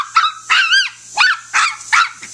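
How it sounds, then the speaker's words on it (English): A dog barks in a quick series of about five sharp, yelping barks, close and loud, with short gaps between them. "Dog gone wild."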